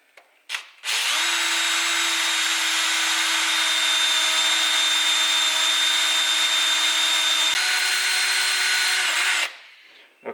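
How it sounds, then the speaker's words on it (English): A power drill bores a pilot hole into a Lambretta engine casing, whining steadily at close range for about eight seconds after a brief start-up, then winding down. "So we'll drill this out now"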